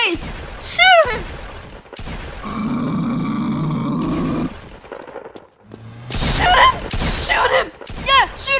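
Gunfire rattles in a video game in short bursts mixed with grunts and other game effects, while players talk and shout over the action.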